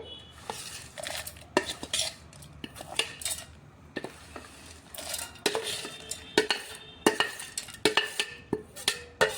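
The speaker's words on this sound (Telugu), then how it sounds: "ఇప్పుడు మిక్సీ జార్లో మనం ముందుగా ఫ్రై చేసి పెట్టుకున్న ఎండుమిరపకాయలు మిరపకాయలు ఇవన్నిటిని మిక్సీ జార్లో అయితే వేస్తున్నానండి" Fried dry red chillies are dropped into a steel mixer jar, sounding as a run of close, sharp metallic clinks and rattles. Dense clusters of hits come in uneven bursts with short pauses between them, and no one speaks.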